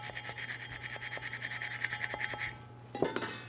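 Brisk, rhythmic scrubbing cleans the inside of a front brake part from a 2003-2009 Dodge Ram 2500. Close, even back-and-forth strokes repeat quickly, then stop with a couple of light knocks.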